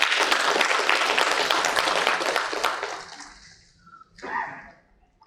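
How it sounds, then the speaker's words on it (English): Audience applause at the inaugural session of an SME manufacturers and exporters summit, dense clapping for about three seconds that then dies away, followed by a few faint scattered sounds. "So may I request you to have a big round of applause for all of you."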